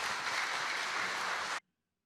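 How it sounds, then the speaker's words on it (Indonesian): A church synod audience applauds at an HKBP Ephorus candidacy address, giving a dense, steady burst of clapping that stops abruptly after about a second and a half, followed by silence. "Tepuk tangan."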